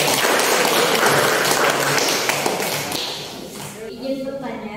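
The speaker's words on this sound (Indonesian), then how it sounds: "Tepuk tangan dong." A classroom audience applauds in a dense, loud, continuous wash of clapping that fades slightly toward the end as voices begin to emerge.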